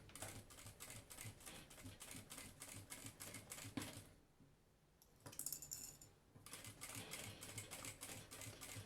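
Sewing machine stitching a seam along a zipper on a bag panel, a rapid, steady mechanical clatter close by that stops briefly partway through, then resumes at the same brisk rhythm.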